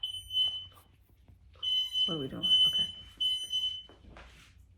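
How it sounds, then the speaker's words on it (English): A home smoke alarm beeps in repeated high shrill bursts, set off by heat during a house renovation, with a person speaking briefly between the beeps. "So that's the alarm going off because I guess it was heat"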